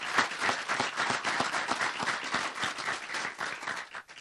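Audience at a shopping center groundbreaking ceremony in Burke County breaks into applause, dense, steady clapping from many hands that holds for several seconds before tapering off.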